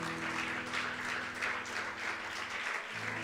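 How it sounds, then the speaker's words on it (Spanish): A church congregation applauds during a Spanish-language service, a steady, distant-sounding wash of clapping at low level over a sustained instrumental hum. "¿Cuántos le dan un fuerte aplauso a nuestro Dios?"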